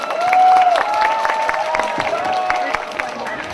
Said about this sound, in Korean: 네, 모두 박수로 맞아주시면 감사하겠습니다.